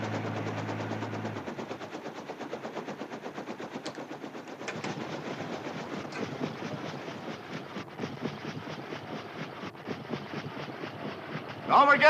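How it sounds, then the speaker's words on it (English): A train passes with a steady, rhythmic clatter of wheels on rails, fairly loud and continuous throughout, with no talking. "just passed the train"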